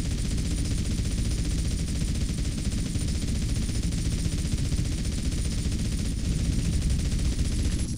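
Rapid, continuous automatic gunfire while shooting at targets in GTA San Andreas, a dense unbroken rattle of shots at steady loudness for several seconds, no talk.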